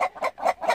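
Chickens in a coop clucking in four quick, evenly spaced bursts, close and fairly loud.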